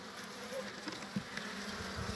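Grey German Buckfast honey bees buzz steadily and close up around the hive, a continuous dense drone with no talk over it.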